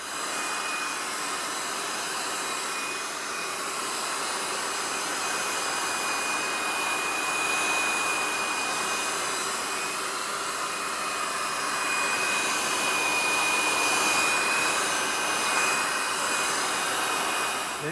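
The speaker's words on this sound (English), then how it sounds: "I'm going to add the heat gun and spin it around" A heat gun blows steadily on the painted bodywork of a Ferrari 348, a constant close airy roar with a faint whine that swells slightly as it moves around, no talk.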